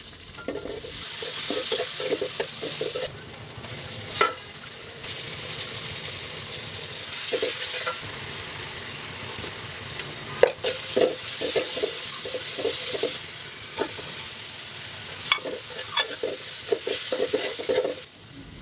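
Chopped onions and spices frying in a pot for bhuna khichuri, a constant close sizzle broken by repeated scraping and clinking strokes of a stirring spoon, with no voices.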